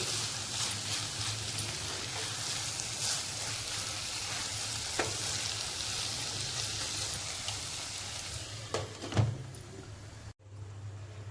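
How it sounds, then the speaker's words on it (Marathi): Moth bean curry (matki usal) sizzles steadily in a pan while being stirred and turned, with soft scraping strokes and a brief clatter near the end, no talking. "परत एकदा परतवून झाकून ठेवायची"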